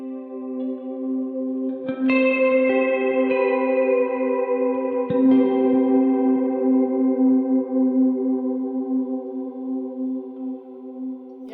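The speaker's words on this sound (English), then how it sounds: "just your normal condensed reverb, and then a longer, prettier reverb" Sustained electric guitar chords ring out through an ambient reverb pedal's lush, long reverb, with a second strum around midway and a wash of sound slowly decaying.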